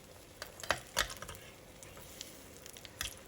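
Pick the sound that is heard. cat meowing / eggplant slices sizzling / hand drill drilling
eggplant slices sizzling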